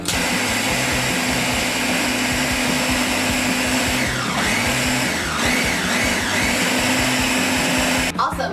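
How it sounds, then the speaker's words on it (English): Blender whirring continuously as it mixes chocolate cream pie filling, a loud steady motor drone with shifting pitch partway through, cutting off abruptly near the end. "we took the blade out of our blender and our chocolate cream mixture is in here"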